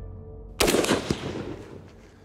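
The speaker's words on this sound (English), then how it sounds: "made a great shot" A single sharp rifle shot fired at an axis buck during a ranch hunt, a loud sudden crack followed by a fading rolling echo outdoors.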